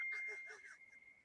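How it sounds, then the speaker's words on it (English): A phone notification ding rings out as a steady tone beside faint speech, fading over about a second. "Did your phone just ding?"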